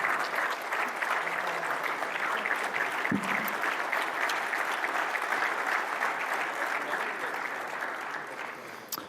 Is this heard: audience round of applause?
yes